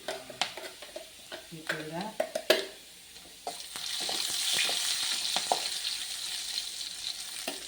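Whole cumin, fennel, cinnamon, cloves, cardamom and bay leaf sauté with onions in a pan for a mushroom gravy: sharp clatters and stirring knocks at first, then a rising, steady sizzle.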